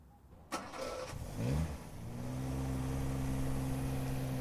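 A car engine cranks and catches with a sharp start, then settles into a steady, close idle hum that continues to the end, with no voices.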